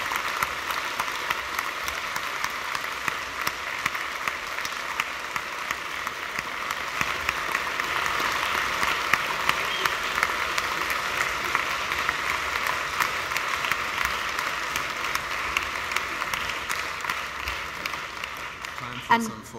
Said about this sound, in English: encourage him to come in with a little bit of applause